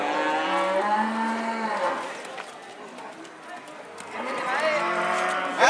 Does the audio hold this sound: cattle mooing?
yes